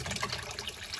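Water flowing through a newly fitted float valve into a cold water storage tank, a steady close trickle and gush of filling liquid, with no voices.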